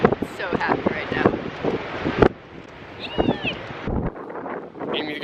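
Cold, stormy off-season wind gusts at Cannon Beach, rumbling and buffeting close to the microphone in uneven bursts, with voices talking over it.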